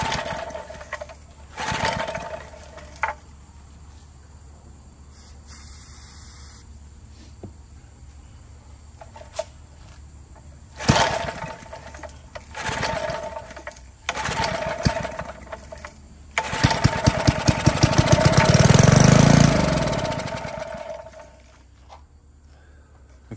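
Old barn-find Briggs & Stratton small engine with a fuel problem sputters in uneven bursts, surging loud for a few seconds before dying back to near quiet, then catching again near the end.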